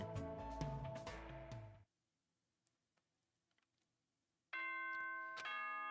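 A bright electronic announcement chime from the video game Danganronpa 2 rings out twice, separated by a near-silent gap with only a few faint clicks.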